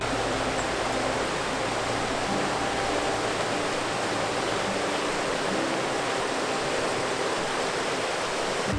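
The Oconoluftee River in the Great Smoky Mountains flows beside a trail with a constant broadband rush of water over rocks, steady and close throughout, no voices.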